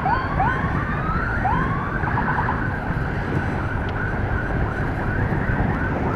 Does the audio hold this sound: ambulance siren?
yes